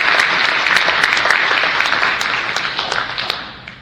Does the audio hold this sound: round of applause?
yes